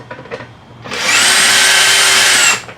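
A power drill spins out Phillips screws from a lawnmower's top shroud, a loud close whirring burst of about a second and a half rising sharply, then cutting off, after a few quiet handling clicks.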